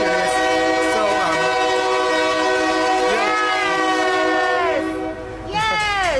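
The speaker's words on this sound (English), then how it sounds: "We have a train going by." A passing train sounds its horn in long sustained blasts with pitch bends, loud and near over a constant rumble of rail traffic, with a brief dip before the horn returns.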